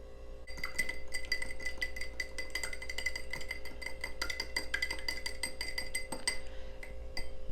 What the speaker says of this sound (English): We're going to crack that right into the bowl. And give that a little whisk.